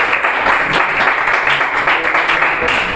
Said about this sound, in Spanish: Den un aplauso al Señor y colóquense sobre sus pies